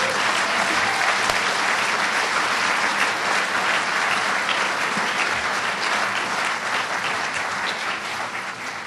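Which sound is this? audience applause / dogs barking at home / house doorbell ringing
audience applause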